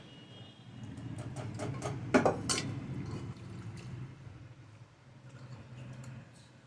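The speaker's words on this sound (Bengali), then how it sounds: "আমি এবার এর মধ্যে পাস্তাটা দিয়ে দেবো" Dry pasta tipped into a pan of simmering pumpkin gravy, a cluster of light clattering taps and soft splashing over a low bubbling simmer, close and fairly quiet.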